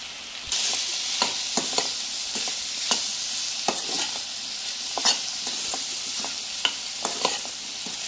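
Sliced carrots sizzle steadily in a pan with garlic and chili powder, while a spoon scrapes and stirs through them in short, irregular strokes.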